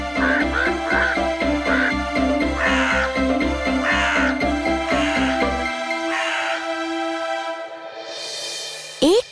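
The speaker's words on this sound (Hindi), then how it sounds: "हम चाहते हैं कि ये कौवे यहाँ से चले जाएं।" Several crows caw repeatedly in a garden in a rapid, harsh rhythm, close and loud, before the calls fade out near the end.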